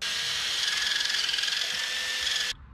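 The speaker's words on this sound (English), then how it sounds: "drill that as a through bolt" Power drill bores a through-bolt hole in a 1981 U-Haul minitruck, a steady high whining grind running loud and continuous before cutting off abruptly near the end.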